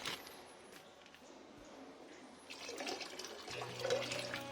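Water poured a little at a time while making food for water fleas, a soft close trickle that swells in the second half, faint at first over a quiet background.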